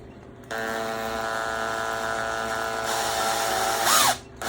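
A power drill bores slowly through material with a steady, continuous whine that holds for several seconds, grows slightly harsher, then winds down and stops. No one talks over it.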